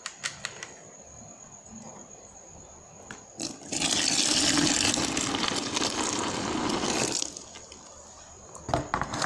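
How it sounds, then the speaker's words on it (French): Simmering water poured onto 400 g of milk in a plastic bucket for homemade plain yogurt, a steady broadband rush lasting several seconds in the middle, with quieter handling clicks before and after and no talk. "J'ai versé ma boîte de lait, c'est-à-dire 400 g de lait. Je vais ajouter l'eau frémissante."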